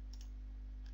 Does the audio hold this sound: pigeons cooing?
no